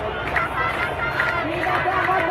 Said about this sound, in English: That's the chant that you hear right now